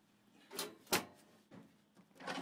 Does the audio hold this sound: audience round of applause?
no